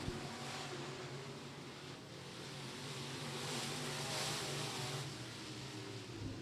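Dirt track race cars, G&G Express Sport Mods, run hot lap time trials at Florence Speedway; a continuous droning engine roar rises and falls at moderate distance, with no voices over it.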